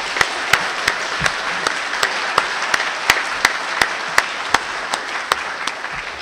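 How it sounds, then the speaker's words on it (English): Sparse applause from a small audience at a classical tradition award ceremony, a handful of distinct, evenly spaced claps ringing out over a soft bed of quieter clapping. "That's worthy of another round of applause."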